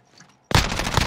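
Automatic gunfire erupts suddenly after a near-silent moment in a Call of Duty match, a loud, close, rapid burst of shots that keeps going.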